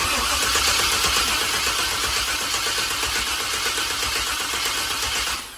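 An old dually truck engine that has been sitting a long time cranks over steadily and loudly without firing, a continuous rapid churning that stays even throughout and fades slightly at the very end.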